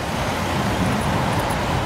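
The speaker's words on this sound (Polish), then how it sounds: "Samochody." Street traffic with cars passing nearby, a loud continuous roadway roar and rumble throughout, no voices.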